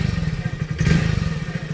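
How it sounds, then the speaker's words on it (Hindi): A motorcycle being moved and started, with engine putter, clatter and thuds close by in a rhythmic, pulsing sequence. "मैं मोटरसाइकिल अंदर करना"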